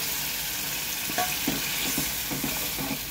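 A spatula stirs cumin paste through fried tomato and onion in a hot pan, a steady sizzle with soft scraping strokes recurring every half second or so.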